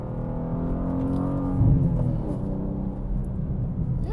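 A BMW G87 M2 with manual gearbox drives along, its engine giving a steady low rumble with harmonic drone that swells briefly mid-way, heard from inside the cabin.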